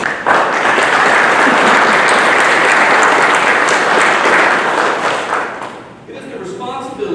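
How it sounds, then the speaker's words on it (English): A loud, sustained round of applause from the audience at an athletic hall of fame and alumnus of the year ceremony, dense clapping that fades near the end as a voice starts talking. "Let's give them a round of applause"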